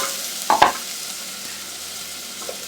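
A pan of chicken biryani frying in oil gets a quick stir: a short scrape-and-clatter burst near the start, then a soft, steady sizzle that continues alone.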